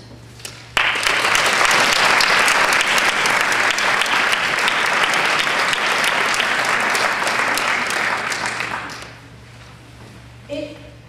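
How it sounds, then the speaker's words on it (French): Audience at a French New Year's greetings ceremony bursts into loud, sustained applause lasting about eight seconds, then it fades out as a few voices murmur near the end. "je souhaiterais que nous vous applaudissions."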